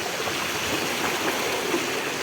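Deep flood water surges and rushes in a steady, continuous wash that fills the whole scene, with no talking.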